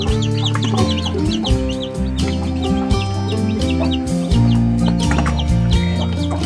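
Busy chorus of newly hatched chicks peeping and chickens clucking, with a turkey among them, continuous and close, with overlapping calls throughout and no talking.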